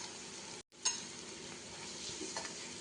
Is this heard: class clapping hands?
no